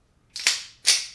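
Shotgun being chambered: two sharp mechanical clacks about half a second apart, close and crisp, with no talking.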